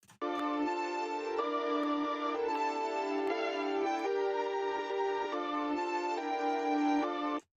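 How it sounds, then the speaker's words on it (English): Drill beat, processed with a sidechain gate, high-cut EQ and Soundgoodizer, plays as a dense, loud sustained melodic loop with chords shifting roughly every second, cutting off abruptly at the end. "With all the effects, it now sounds like this."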